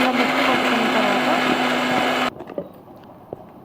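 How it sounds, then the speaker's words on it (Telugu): A mixer grinder whirs loudly and steadily while blending banana, raisins, sugar and milk, then cuts off abruptly, followed by a couple of faint knocks. "ఇవన్నీ వేసుకున్న తర్వాత మిక్సీ పట్టుకోవాలి"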